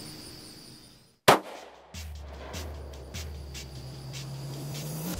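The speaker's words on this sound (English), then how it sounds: "I'm gonna shoot it now." A single sharp rifle shot rings out while hunting outdoors, a loud crack with a brief echo, followed by low steady rumble and faint rustling.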